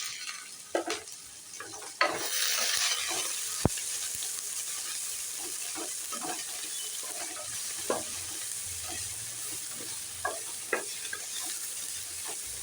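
Onion, capsicum and paneer sizzle steadily in a pan for fried rice, a continuous close hiss broken by occasional scraping clinks of the spatula as the vegetables are stir-fried.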